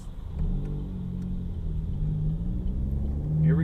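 A 2014 Chevy Cruze Eco's 1.4 liter turbo engine, stage 2 tuned, pulls hard with a rising mid-pitched drone and rumble, heard from inside the cabin with no talking.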